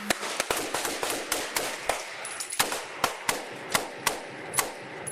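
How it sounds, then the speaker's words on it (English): A rapid volley of sharp gunshots from several handguns fired by police officers, many in quick succession, then slower scattered shots with brief gaps, loud and close. "5 officers fired their weapons."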